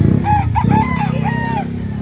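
A rooster at a Saturday chicken market in Lipa City, Batangas, crows loudly and close in one long drawn-out call over a busy, crowded background.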